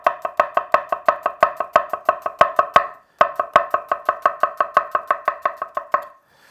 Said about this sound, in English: If you cut your shallots in half and then cut them finely lengthways, and then we'll go in for the chop.